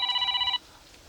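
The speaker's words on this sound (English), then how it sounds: "That selected tone will be applied now as a ringtone." A Samsung Galaxy A15 phone plays a short electronic ringtone preview, a bright chiming tone lasting about half a second before cutting off to near silence.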